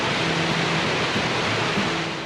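A busy river in a valley rushes loudly and without pause, a dense broadband roar of fast water close by, with no talking.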